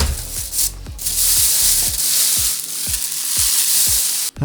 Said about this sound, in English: And let's get this styrofoam off of here.